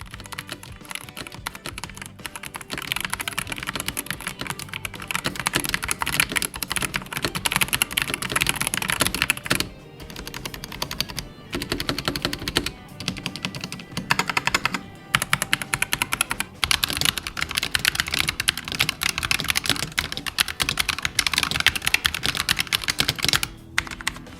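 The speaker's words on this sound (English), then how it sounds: "a satisfying tactile click to each press" Rapid, continuous typing on a Corsair K100 RGB mechanical gaming keyboard with tactile keys fills the recording with dense, close clicking. Brief pauses interrupt the steady stream of key presses, and no one talks.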